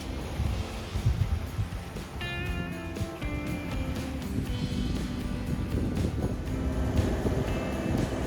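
A sailboat motors under engine power off Santa Eulalia, Ibiza, after the wind has died. A steady low engine drone runs under wind buffeting on the microphone and some faint tonal rattles.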